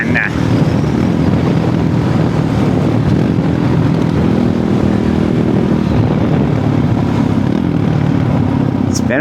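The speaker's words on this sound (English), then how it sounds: "It's been a while since I've just ripped a string of roundabouts or some twisty stuff on a Supermoto." A Supermoto motorcycle rips through a string of roundabouts, its engine droning loud and close throughout with steady rumble and rushing wind noise, the pitch holding and shifting slightly as it leans through the turns.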